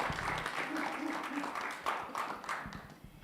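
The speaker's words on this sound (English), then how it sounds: "If we could just give them a quick round of applause to show our appreciation." Quiet applause from an event audience thanking vendors, many hands clapping at a modest distance and gradually thinning out, with some voices murmuring underneath.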